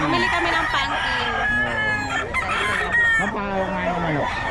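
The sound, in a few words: chicken clucking and rooster crowing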